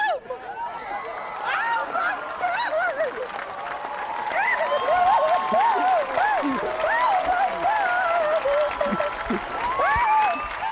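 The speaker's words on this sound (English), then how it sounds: "Alternating between applause and drying their eyes." A sports crowd applauds and cheers as an airman returns home to surprise his mom, steady broad clapping under excited voices, whoops and chatter, loud and continuous throughout.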